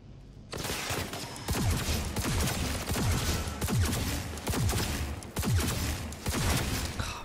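Sustained enemy gunfire in Cyberpunk 2077, a long stream of rapid automatic shots hammering on with only brief breaks, loud and close throughout.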